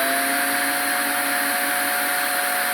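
A small drill running with a blunt 2mm bit into a plastic reproduction part for a Dinky Space 1999 Eagle toy gives off a steady, close, continuous high motor whine with no talking.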